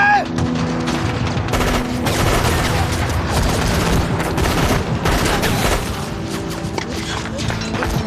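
Grenade blasts and rapid gunfire in a war film battle scene set on the frozen Chosin Reservoir front, loud and dense booms with continuous rattling shots layered over a heavy rumbling din.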